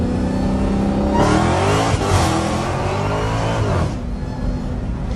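Dodge Hellcat on wet pavement accelerating hard, its engine roaring and rising while the tires spin and squeal loudly, then easing off after about four seconds.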